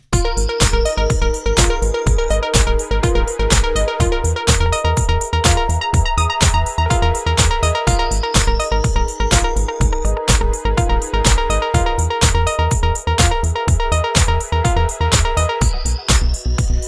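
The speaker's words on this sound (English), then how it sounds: "have some cool arpeggiated sound like this" A bright arpeggiated synthesizer loop from a construction kit in Studio One 6 repeats fast, evenly pulsed notes over a steady beat, out of tune with the song's chords, loud and continuous throughout with no voices.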